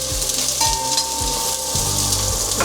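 Onion added to garlic frying in a pan brings a loud, close, continuous sizzle, steady from start to finish with a few faint clicks from the pan.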